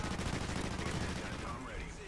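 Gunfire in the video game Call of Duty Ghosts, a dense rapid burst of shots crackling through a noisy game mix, fairly faint and continuous before trailing off.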